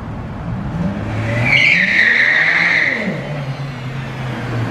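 Close, loud tire squeal from a skidding car, a high screech that rises and holds for about two seconds over the rumble of the engine, which shifts and continues afterward.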